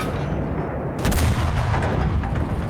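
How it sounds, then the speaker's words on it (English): An artillery strike in a multiplayer fortress battle game lands as a sudden loud blast, followed by a sustained, dense rumble of explosions. "with the great artillery strike"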